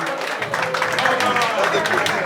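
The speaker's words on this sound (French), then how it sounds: "Applaudissez pour les mariés." Wedding guests applaud the newlyweds at a French union ceremony, a steady dense patter of clapping with crowd voices and chatter mixed throughout.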